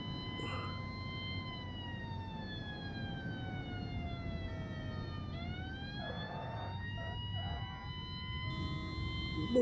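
Police siren crank wail from the BeamNG driving game, a long rising and falling mechanical tone with strong harmonics, steady and loud over engine rumble, with a brief faint voice near the end.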